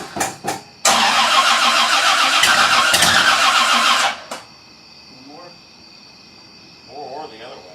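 A 1968 Oldsmobile Cutlass engine cranks in a couple of short bursts, then catches and roars loudly at steady idle for about three seconds before cutting off, leaving crickets chirping and faint voices in the quiet.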